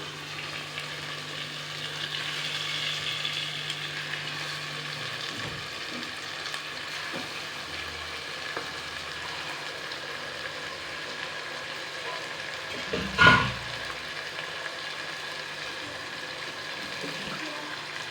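Chicken frying in oil inside a pressure cooker for Ambur biryani: a steady, even sizzle that holds at a moderate level throughout, with one brief louder clatter partway through.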